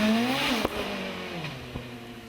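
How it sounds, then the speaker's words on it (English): A sports car fitted with a rear-mounted Suzuki Hayabusa motorcycle engine accelerating hard up a hillclimb course, a high, rising howl with quick gear changes as the car passes nearby and fades slightly, no talking. "Patriotic Scott Alan McDonald's version is powered by a Suzuki Hayabusa motorcycle engine, mounted in the back."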